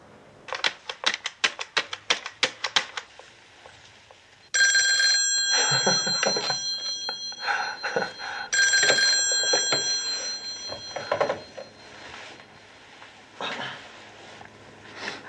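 An old-fashioned telephone bell rings in bursts, first as fast distant-sounding clicks, then two long loud shrill rings up close, followed by fainter ringing and quiet.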